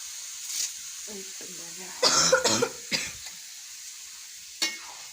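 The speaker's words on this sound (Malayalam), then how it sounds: "ചുമയാണ്" A few sharp coughs from chili fumes burst out near the microphone, separated by short gaps, with faint sizzling and brief talk in between.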